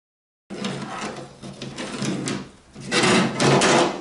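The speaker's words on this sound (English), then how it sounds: "Cut that on the bandsaw outside the line" A bandsaw cuts along the edge of a wooden boat's main deck panel: a steady close machine whir with a low motor hum starts abruptly, dips briefly midway, then swells louder and harsher as the blade bites through the wood.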